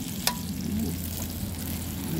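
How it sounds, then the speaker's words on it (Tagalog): Daing (dried fish, dangit and galunggong) frying in a pan gives a steady, close crackling sizzle with one sharp tick near the start, and no voices. "prito po lang tayo ng daing"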